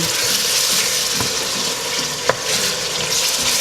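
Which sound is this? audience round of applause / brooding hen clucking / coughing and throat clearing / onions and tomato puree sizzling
onions and tomato puree sizzling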